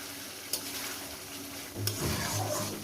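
Aloo posto being sautéed and stirred in a pan, with soft sizzling throughout and a couple of sharp spatula scrapes against the metal.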